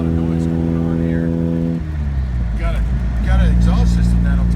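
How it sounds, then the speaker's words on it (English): A 1961 Triumph TR3B exhaust rumbles with a strong, steady low drone that shifts pitch partway through as the revs change, loud and close, with voices briefly audible over the engine. "Got an exhaust system that'll talk to you, that's for sure."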